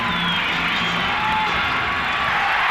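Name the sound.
basketball arena crowd cheering before tip-off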